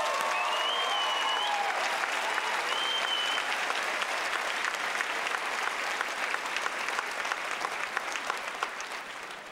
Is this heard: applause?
yes